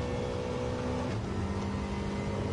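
A video game car engine drones loudly and continuously, holding a steady high rev without pause.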